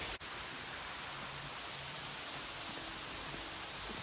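Kurşunlu Waterfall in Antalya pours in a steady, even rush of falling water, a broad hiss that holds constant throughout, with a brief click near the start and no voices.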